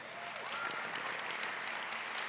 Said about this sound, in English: let's give another round of applause for this amazing event